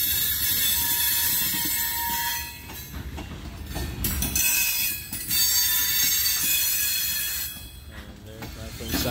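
A Union Pacific freight train of 61 cars, hauled by GP38N and SD40N locomotives, rolls past with loud, sustained metallic wheel squeals rising and falling over the rumble of rail cars.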